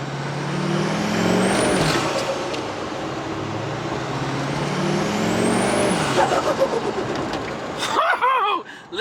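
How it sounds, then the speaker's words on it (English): A big-turbo Duramax diesel Denali pickup accelerating from a stoplight, turbo whistle rising and falling twice over a steady engine roar, with a brief burst of noise at the end. "I want to see if we can just hear that turbo just a little bit."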